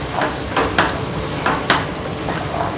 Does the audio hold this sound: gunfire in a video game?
no